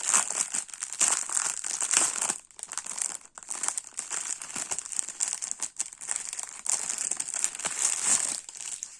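Crinkly plastic packaging of craft supplies is being opened, giving close, busy crackling and crumpling in irregular bursts with a few brief pauses, no talking.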